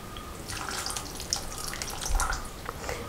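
Squeezed tamarind water is poured into a pan for a coconut-based Malabar fish curry, giving a close splashing trickle with small drips and a slightly louder splash near the end.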